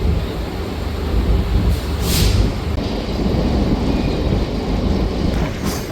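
A train rolling to a halt at Lonand junction on the Satara–Pune line, a steady broadband rumble with wind buffeting the microphone and occasional hissing bursts, loud and continuous with no speech.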